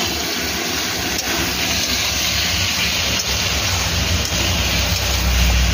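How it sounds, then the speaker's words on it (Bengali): Meat browning in a hot pan while it is stirred, a steady, loud, dense sizzle that hisses without a break and carries no voices. "মাংস নেড়ে চুড়ে নেওয়া হচ্ছে"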